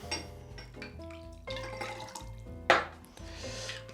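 Vodka poured into a cocktail shaker while making an espresso martini, a brief close liquid pour with light glassy clinks and splashing, no talking.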